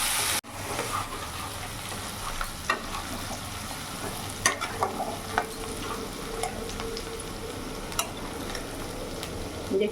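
Onions fry in a pan, cooked until soft for a Bihari-style chicken dish, with a steady oily sizzle close by and intermittent scraping clicks of a spoon stirring, no voices.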